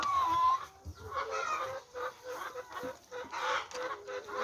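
Chickens on a South Korean community chicken farm cluck and murmur in short, irregular bursts, fairly faint and close, with one higher squawk near the start.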